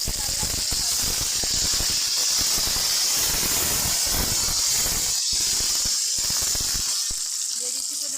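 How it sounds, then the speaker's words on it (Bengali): Onions sizzle and hiss steadily in hot oil in a pan, a continuous close frying sound throughout, with a few crackles and clinks over the constant bright sizzle. "পেঁয়াজটা লাল লাল হওয়া পর্যন্ত ভালো করে ভেজে নেব।"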